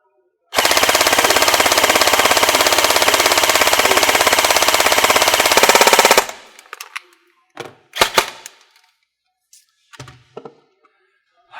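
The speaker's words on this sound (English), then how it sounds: "No test would be complete, of course, without full auto." Specna Arms Edge airsoft rifle with an aluminum alloy receiver firing full auto from a 120-round magazine, a loud, fast, unbroken buzz of shots lasting about six seconds, followed by scattered sharp knocks of pellets hitting targets.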